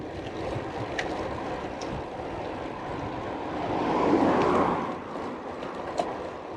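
Steady wind noise rushes past while cycling in chilly shade, a continuous broadband roar that swells louder for a moment partway through, with faint clicks and rattles on top.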